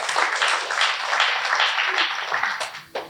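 Sustained applause from a church congregation, a dense wash of clapping that fades out near the end.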